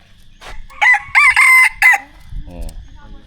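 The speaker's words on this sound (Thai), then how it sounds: "ไก่โตพี่น้อง" A rooster crows loudly and close by in a series of bursts over about a second, followed by a few softer clucks, with faint murmuring in the background.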